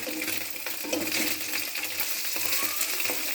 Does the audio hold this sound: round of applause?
no